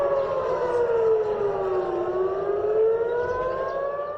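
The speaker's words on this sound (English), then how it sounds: "air raid sirens blaring in Tel Aviv" Air raid sirens wailing across Tel Aviv, a steady loud rising-and-falling civil defense tone with layered pitches carrying through the air, no voices.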